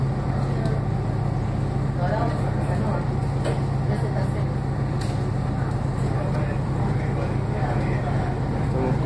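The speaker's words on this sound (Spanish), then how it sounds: "Motor ya está manteniendo una buena aceleración." A CNR 1018 locomotive accelerating out of Libertad station, giving a steady low droning engine hum with constant rumble throughout, heard from on board with someone talking over it.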